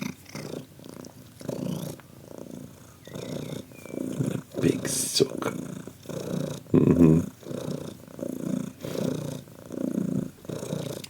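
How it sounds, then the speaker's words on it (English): A cat purrs with a deep, rumbly rhythm, loud and close in steady pulsing waves. A person speaks briefly over it. "He's got very rumbly purrs."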